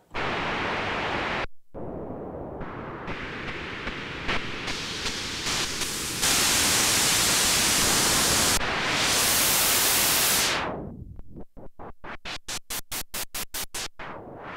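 Loud hissing noise from a Black Corporation Kijimi synthesizer's noise generator, with shifting textures and abrupt changes, sweeping near the end into rapid rhythmic gated bursts.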